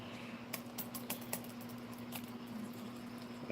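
Keys tapping on a Japanese chiclet laptop keyboard, a soft run of irregular clicks at close range, quiet and alone over a faint steady hum.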